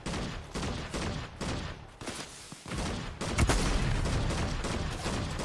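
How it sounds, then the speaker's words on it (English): Video game gunfire rattles as a dense fusillade of rapid shots, loud bursts repeating across the whole stretch with brief gaps and a heavier volley toward the end. "I hear gunshot."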